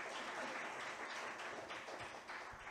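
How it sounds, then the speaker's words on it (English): A big round of applause from the audience at an international Saemaul forum session; quiet, distant-sounding dense clapping that runs steadily without a break. "Maybe a big round of applause."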